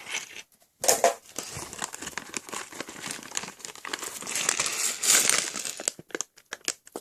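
Crinkly plastic packaging of a Lego set is torn and crumpled, a busy stretch of close rustling and ripping with brief pauses.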